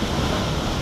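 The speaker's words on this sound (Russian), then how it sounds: "море злое, потому что сегодня будет полное солнечное затмение, и море просто сегодня монстр" Rough, angry sea on the day of a total solar eclipse, a brief dense wash of surf and wind roaring steadily with no break.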